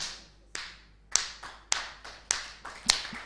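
Six separate sharp claps in a church service, spaced roughly half a second apart in a slow irregular rhythm, close and fairly loud with quiet gaps between them and no voices.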